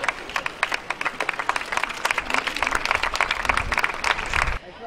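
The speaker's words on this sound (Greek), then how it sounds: "άναψε τη φλόγα υπό τα παρατεταμένα χειροκροτήματα των θεατών" Spectators applaud steadily at the rehearsal of the Olympic flame lighting ceremony, a sustained outdoor clapping from a large crowd that stops abruptly at the end.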